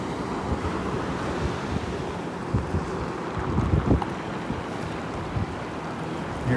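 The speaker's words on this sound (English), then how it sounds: "Here comes the waves." Ocean waves washing onto the beach at Delnor-Wiggins on a morning walk, a steady close rushing surf with gusty wind noise on the microphone and a few louder swells.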